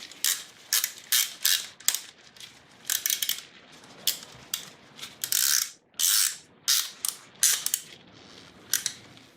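Ratcheting clicks from a wrench tightening a fitting on a 1999 Acura RL fuel filter, in quick bursts of sharp metallic ticking repeated over and over with short pauses, close up and with no talking.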